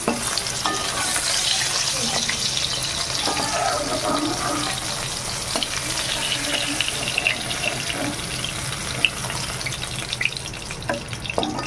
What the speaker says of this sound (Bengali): দেখুন একদম লাল লাল করে ভেজেছি একটু কড়া করে ভেজেছি